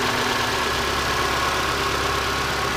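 A cold-running 2.5-liter engine in a 2012 Ford Escape idles steadily, its loud, even rumble holding constant throughout without a break.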